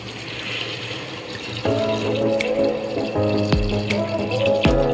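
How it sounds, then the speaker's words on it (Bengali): Water poured into a pan of fried spice masala while cooking ghugni, a steady close splashing pour that strengthens partway through, with a sizzling rush as the liquid meets the hot oil. "এবারে এর মধ্যে জল অ্যাড করে দেবেন।"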